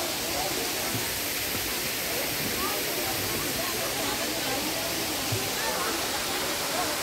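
Pangpang Habog falls in Antequera roars as a steady, loud, unbroken wash of rushing water close by, with voices faintly audible beneath it.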